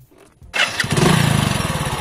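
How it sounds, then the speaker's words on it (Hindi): A motorcycle engine catches after a brief crank and settles into a loud, steady, close-up run with a rapid pulsing rhythm; no one speaks over it. "इसके बाद मैं अपनी बाइक को स्टार्ट करता हूं।"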